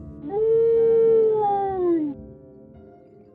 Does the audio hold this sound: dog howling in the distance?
yes